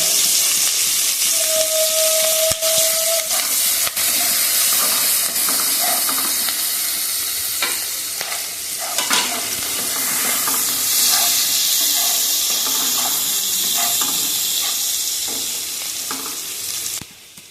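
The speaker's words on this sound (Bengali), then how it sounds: "ওই তেলের মধ্যেই দিয়ে দেবো পেঁয়াজ কুচি, লঙ্কা কুচি।" Chopped onion and chilli fry in hot oil with a steady, loud sizzle and hiss, close up, broken by occasional scraping stirs and a brief high whistle early on.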